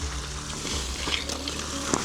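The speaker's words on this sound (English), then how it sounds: "Water is just boiling right off of the rocks." Water hisses and sizzles steadily against hot sauna rocks, a soft crackling spray with a few sharper pops, with no voices.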